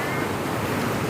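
Strong flood water waves surging along a flooded Manila street, a loud, broadband rushing wash that sounds close and continuous over a brief moment, with no talk.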